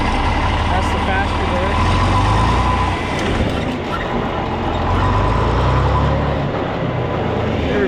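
A John Deere 4010 tractor engine runs in high reverse, a loud, close, continuous diesel drone that swells and eases over the span, with a voice heard over it.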